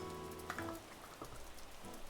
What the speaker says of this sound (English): since it is raining, we can't go to Sealy Camp